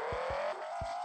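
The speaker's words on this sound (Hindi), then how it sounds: "देखो भाई लैम्बो AK-47 की आवाज देखो" A Lamborghini Huracan engine runs with a steady, close droning tone in rainy weather, punctuated by a few short low thumps.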